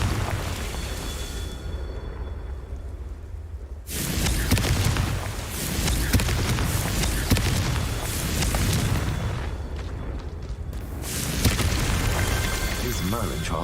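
Confringo blasting spells from Hogwarts Legacy, played on a Steam Deck, go off in loud, booming bursts. Several rumbling, crackling detonations follow one another over a continuous wash of game noise.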